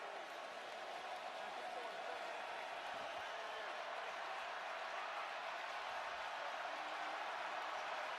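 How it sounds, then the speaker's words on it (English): A stadium crowd keeps up a steady, distant roar of cheering and applause at an NFL game between the Bills and the Jaguars, fans on their feet making noise in a continuous wash. "Crowd's still into it. They're still on their feet making noise."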